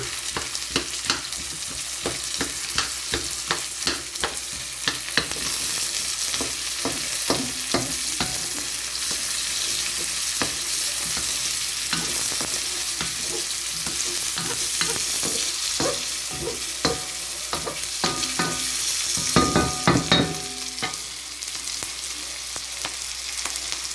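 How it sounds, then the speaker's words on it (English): Chopped onion, chili and garlic sizzling in a pan for a prawn curry while a utensil stirs them, a continuous close frying hiss broken by repeated scraping and tapping strokes, with a louder flurry of stirring near the end. "chopped onion, that's half an onion, chili and garlic. And we're just going to mix it in."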